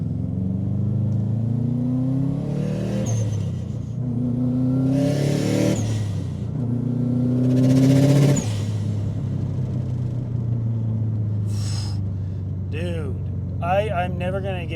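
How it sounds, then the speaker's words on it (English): Turbocharged 2005 Subaru STi with an external wastegate pulling hard through several rising acceleration runs, each climbing rev sweep ending in a burst of wastegate hiss, with brief talk at the end. "you just can't beat the sound of an external wastegate on these cars"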